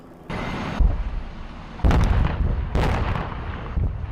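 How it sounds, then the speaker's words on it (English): Deep booms go off several times, each followed by a rumbling roar that lingers, loud and distant-sounding, with no talking. "there were major explosions occurring. We heard loud booms"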